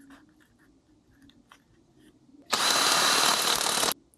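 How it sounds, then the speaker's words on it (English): A power drill boring a hole into a bicycle bottom bracket lubricated with cutting fluid, one loud grinding burst of about a second and a half after some faint handling clicks. "Bit of cutting fluid helps cool the blade and lubricate the drilling hole."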